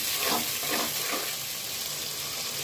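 Spices and chopped onion frying in oil for a beef curry, a dense, steady sizzle close by with a few soft stirring strokes near the start and no voices.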